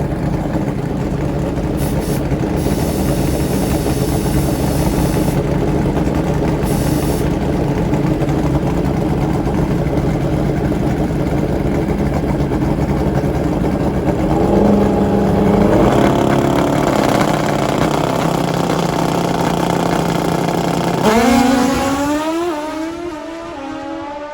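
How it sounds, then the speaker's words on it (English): Nitrous GS drag racing motorcycles at a packed drag strip, engines droning loud and steady for a long stretch before a rising, howling rev and launch near the end, then fading away. "Nitrous GS bikes."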